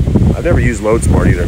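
Gusty wind buffets an outdoor microphone in a backyard, a steady low rumble running under a man's continuous speech.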